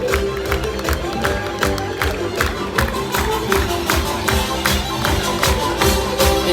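Crowd at an Australian Olympic team welcome home celebration in Perth claps and cheers after a stage performance, with loud steady rhythmic beats and music running under the applause.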